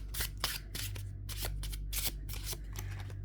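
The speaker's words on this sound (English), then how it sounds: "Let's give it a good shuffle." Close, quiet riffling of tarot cards being shuffled in a series of quick papery bursts, repeated several times in an irregular rhythm.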